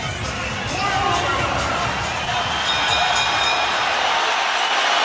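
Loud arena crowd at a women's boxing bout at the O2, a dense, steady roar of cheering and babble filling the space without a break.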